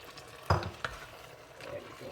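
Small shrimps dropped into laing simmering in a pan with taro and coconut milk, giving a couple of quick splashy plops followed by soft bubbling and stirring, close and brief.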